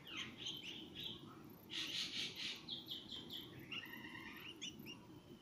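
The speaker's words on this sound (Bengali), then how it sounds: "এটা একটা শালিক পাখির ছোট্ট বাচ্চা" A baby common mynah (shalik) gives a run of faint, high chirps in short bursts, close by in a quiet room, with a soft background hum and no speech.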